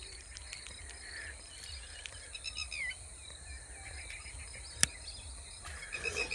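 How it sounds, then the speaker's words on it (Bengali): Crickets and other insects chirp continuously around an open field on a quiet river island in Murshidabad, with occasional faint bird calls and a sharp click, soft and distant throughout with no talk. "চারিদিকে ঝিঝি পোকা"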